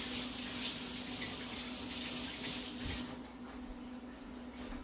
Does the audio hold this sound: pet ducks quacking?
no